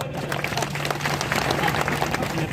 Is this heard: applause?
yes